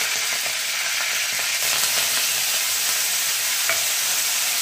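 Curry leaves crackle in hot oil with black masala for a village-style drumstick pod curry, a steady loud broadband sizzle lasting throughout with faint scraping, no voices.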